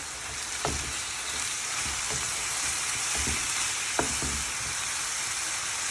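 Meat sizzles steadily in a hot pan, with a few soft stirring clicks and scrapes over a constant, close frying hiss.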